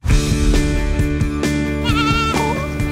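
A goat bleats in quavering, wavering calls over a steady, loud musical bed, with a couple of sharper cries toward the end.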